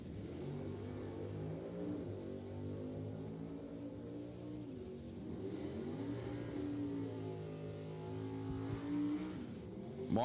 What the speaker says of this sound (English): Norris, the Superstock C automatic Belvedere, is actually going to move first.